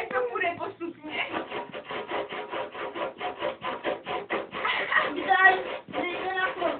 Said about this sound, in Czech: Ona totiž je úplně vadná, ta pila.